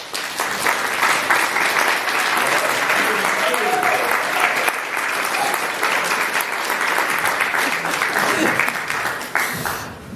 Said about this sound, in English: would you mind standing and accept some applause from us